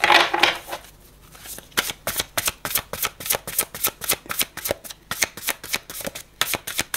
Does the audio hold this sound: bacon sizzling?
no